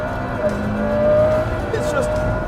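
A 2014 McLaren P1's powerful engine roars steadily at high revs in race mode, rising in pitch as it accelerates, with a faint tire squeal now and then.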